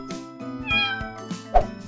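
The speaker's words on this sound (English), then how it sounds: "Cat." A domestic cat meows several times in a short run of clear, close, harmonic calls with brief pauses, the last one sharper and louder.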